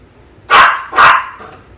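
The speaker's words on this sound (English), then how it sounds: "They can't hear me because you're barking." A dog gives two loud, close barks about half a second apart, then the room falls quiet. No one speaks.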